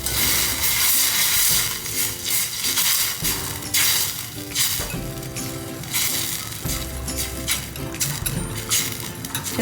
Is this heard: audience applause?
no